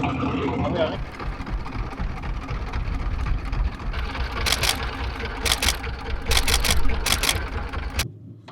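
A boat engine runs steadily on a canal in the Sundarbans mangrove forest, a loud continuous motor drone with bursts of high hiss from about midway. It stops abruptly near the end, leaving near silence.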